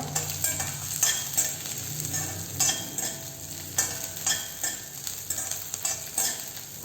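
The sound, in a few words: onions, chilies and tamarind sautéing in a pan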